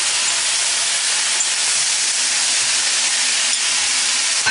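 Shrimp, mushrooms and pepper hit a hot pan and sizzle in a loud, steady hiss that holds unbroken throughout, close up with no talking.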